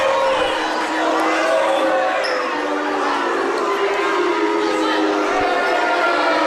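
Home crowd at a girls' high school basketball game in a gym grumbling and murmuring in disapproval after a blocking foul is called, a steady roar of voices with a faint whistle.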